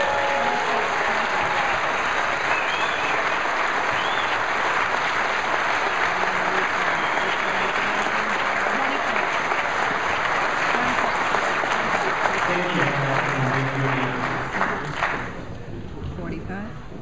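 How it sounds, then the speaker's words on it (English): Sustained applause from a large crowd, a dense roar of clapping that holds steady for many seconds before tapering off near the end. "Can we have one more round of applause for all our junior delegates?"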